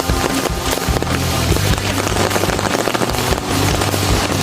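Heavy rain pours down steadily during a riverside shrimp-fishing trip, a loud, dense, continuous patter on the surface close by, with no voices.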